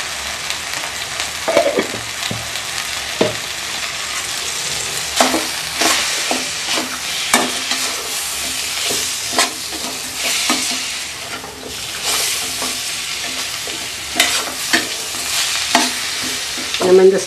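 Ground spices sizzle and fry in hot oil for a coconut milk biryani, stirred with repeated scraping clicks of a spoon against the pan over a steady frying hiss.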